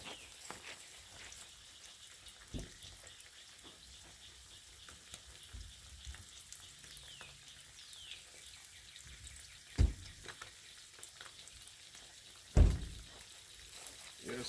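Small crappie fish frying in grease on a portable stove outdoors, a faint, continuous crackling sizzle with a couple of louder knocks and bumps nearby.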